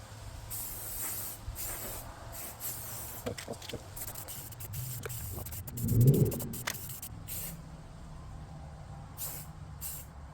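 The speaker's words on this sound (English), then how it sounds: "I'm just going to hit it with the white gloss." Aerosol white gloss paint hisses in short and longer bursts over rust converter on parts of a 20-year-old Goldstar air conditioner, close and steady, with a louder spray swell midway.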